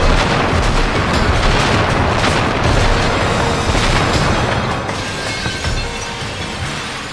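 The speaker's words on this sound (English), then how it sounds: "I especially liked seeing the gas station explode" Gas station explosion in a made-for-TV remake of Carrie, a loud sustained roaring rumble of blast and fire that slowly fades.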